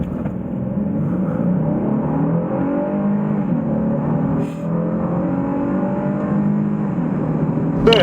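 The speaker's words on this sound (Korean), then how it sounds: "앞서 말씀드린 파워트레인을 기반으로 한 가속 성능에 대해서도 알아볼까요?" A Honda Pilot 3.5 accelerating hard from inside the cabin, a steady engine drone rising in pitch with a brief dip partway through, muffled and continuous.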